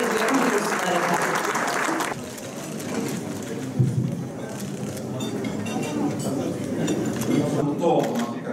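A large audience applauds at the Medya Ankara Başkente Değer award ceremony as an honoree is called to the stage. The clapping is loud and dense from the start, then eases slightly but keeps going steadily for the whole stretch.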